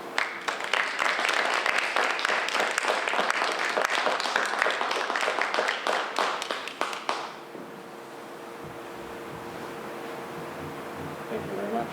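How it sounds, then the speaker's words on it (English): Warm applause breaks out at a village annual meeting: a dense, loud burst of many hands clapping in a hall, lasting several seconds before cutting off into quiet room tone and faint murmur. "So I think a round of applause, whether he's here or not, is well-deserved for Guy."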